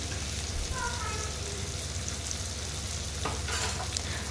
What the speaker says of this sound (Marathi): आता टोमॅटोला जास्त वेळ लागत नाही, तेलामध्ये लगेच फ्राय होतो